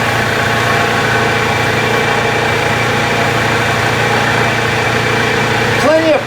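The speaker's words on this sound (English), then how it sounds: "now this is fine steel wool" Fine steel wool pressed against sleeper wood spinning on a woodturning lathe, giving a continuous loud, even hum and rush of the running machine throughout, with no pauses.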